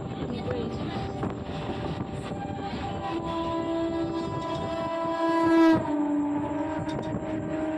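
Indian passenger train running, heard from inside the carriage: a steady rumble with a rising, sustained horn-like tone building near the end before fading.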